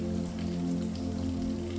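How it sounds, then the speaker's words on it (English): Heavy rain pours down in a dense, continuous wash of drops, steady and close, with a low constant hum beneath. "The rain comes down harder, and the gentle patter of large drops transforms into a steady stream of heavily falling rain."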